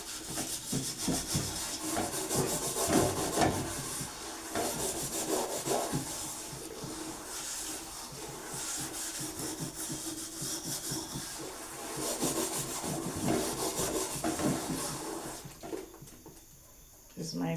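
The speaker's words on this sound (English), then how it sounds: "So I'm washing my pot now." Pot being scrubbed with a scouring pad during dishwashing, a steady run of rough rubbing strokes close up, continuous for most of the span, with talk underneath at times and a brief drop near the end.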